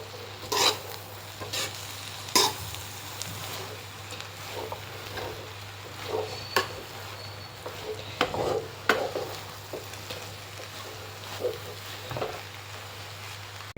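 Mandakki egg bhurji is stir-fried in a pan on a low flame, with a quiet steady sizzle. A spatula scrapes and taps the pan at irregular intervals.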